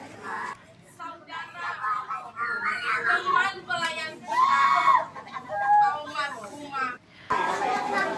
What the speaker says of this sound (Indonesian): Jeritan bocah berusia 7 tahun ini terasa menyayat, begitu memilukan di tengah ibadah pemakaman